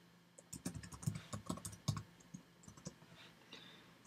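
Rapid, uneven keystrokes on a computer keyboard while code is typed for an Xcode 4 iOS app, close and clear, with clustered clicks and brief pauses and no talking.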